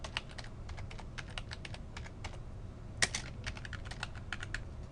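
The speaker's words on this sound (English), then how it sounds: "I'm just going to start typing relationship." Rapid keystrokes on a computer keyboard while text is entered into an Excel 2013 spreadsheet, an irregular patter of close, crisp clicks with one sharper clack partway through.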